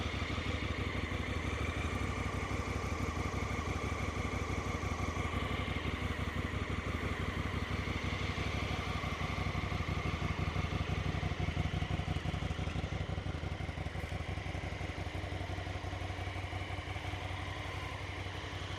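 A Honda Africa Twin CRF1000L, a one-litre motorcycle with an automatic gearbox, idles while warming up, its steady low engine rumble holding evenly throughout at moderate distance with no talking.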